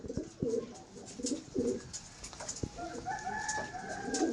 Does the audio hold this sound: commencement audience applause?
no